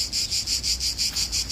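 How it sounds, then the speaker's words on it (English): Crickets chirp steadily on a Roman hillside park among trees and bushes, a close, high, pulsing trill repeating in even bursts about five times a second with no other sounds. "and you may hear the crickets"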